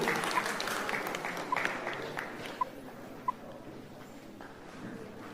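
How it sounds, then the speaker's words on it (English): Applause from a seated audience at a graduation ceremony in a hall, steady diffuse clapping throughout, moderately quiet and somewhat distant, with a few sharper knocks standing out. "Let's clap ourselves as we sit."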